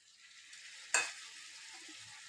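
Potatoes and beans fry in oil as tomato goes in, a faint steady sizzle broken by one sharp clatter near the middle.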